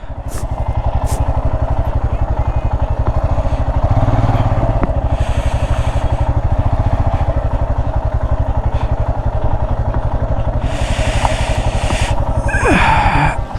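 A motorcycle engine running steadily at close range as the bike is parked outside a restaurant near Chakrata, with a loud, even idle rumble and a few clattering rattles throughout.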